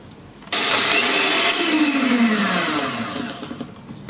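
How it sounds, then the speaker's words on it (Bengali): An electric hand beater whirs at high speed through cake batter for an Ovaltine cake, starting abruptly and holding a steady, loud motor drone with a slight downward pitch shift, then easing off toward the end. "এখন আমি এই চারটা উপকরণ বিট করে নিচ্ছি দেড় থেকে দুই মিনিট বিট করব"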